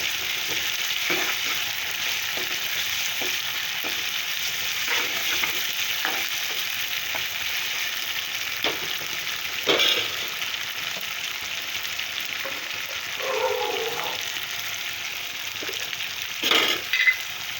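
Tomato frying in a pan for prawn gongura curry, a steady close sizzle with occasional stirring scrapes and clinks, no talking.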